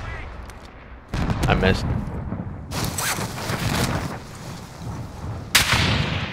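An RPG rocket fires in Call of Duty Warzone, with a sharp broadband blast followed by a loud rumbling boom and a second burst late on, and a voice speaks briefly over the noise.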